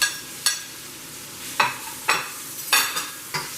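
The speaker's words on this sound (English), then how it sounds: "Sauteing the garlic and the onions." Chopped garlic and onions being sautéed in a pan, heard as a soft steady sizzle broken by about six sharp scraping strokes of stirring, close by, with no talk.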